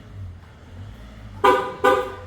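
Two short car horn honks in quick succession from a 2014 Audi A3 as its doors auto-lock, loud and close, over a low engine hum.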